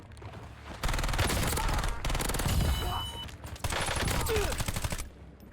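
Rapid SMG gunfire in the Warzone video game, with dense automatic bursts that start about a second in and pause briefly near the three-and-a-half-second mark before resuming loudly.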